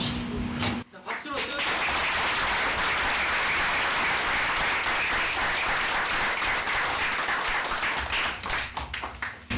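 After a short pause, a crowd breaks into loud, dense applause for a donation handed to a UNICEF representative, the clapping continuing under talk and thinning toward the end.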